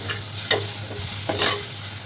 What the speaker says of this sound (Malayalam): ഒരു തക്കാളി ചേർത്ത് കൊടുക്കാം. ഇതൊന്ന് വാട്ടിയെടുക്കണം കേട്ടോ തക്കാളി.